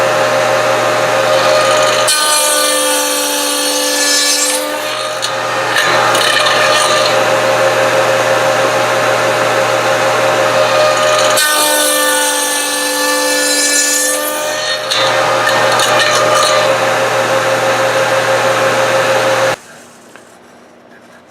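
A table saw with a dado stack cuts wood in two long, loud passes, the blade whining up as it bites and then running down, with steady machine hum between cuts.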